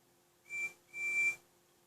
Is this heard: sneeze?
no